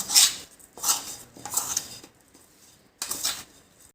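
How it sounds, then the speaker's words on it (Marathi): Cauliflower florets being mixed with tomato sauce marinade in a bowl, giving several separate bursts of clinking and scraping, fairly close and moderately loud, with short pauses between them. "टमॅटो सॉस दोन चमचे आता ह्याला व्यवस्थित मिक्स करून घेऊ"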